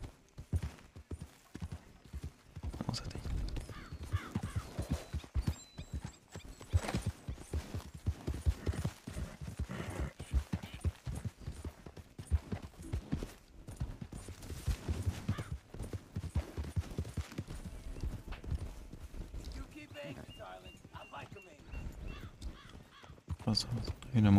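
Horse hooves clip-clop steadily on a road in Red Dead Redemption II, a mare being ridden toward a stable, with crows cawing and someone talking over the continuous hoofbeats.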